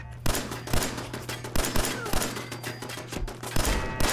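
Repeated gunfire and explosive blasts from the video game Fallout 4 with a rocket launcher in play, sharp loud bursts recurring irregularly over a steady low hum, with no talking.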